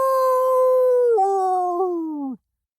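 A single sustained cartoon wolf howl voiced by a performer imitating the Big Bad Wolf, loud and close, holding a steady tone before dipping in pitch twice and cutting off sharply.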